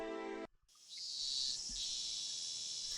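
Cicada chorus in the Higurashi no Naku Koro ni game, a dense shrill buzzing drone that starts after a short burst of music cuts off, then holds loud and steady to the end.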